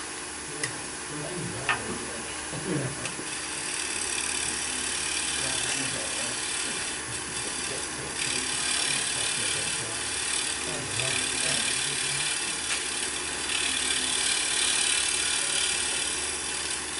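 A wood lathe hums steadily while a tool shear-scrapes spinning wood on a wig stand, a continuous rough whir with a few brief clicks near the start.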